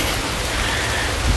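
Heavy rain falls over a garden, a steady, even wash of hiss that stays constant for the whole moment with no voices.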